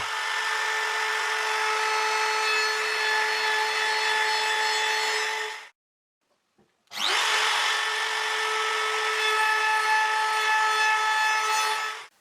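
A router fitted with a round-over bit mills wood for a router table insert plate, a loud continuous high whine in two long runs broken by a short silence.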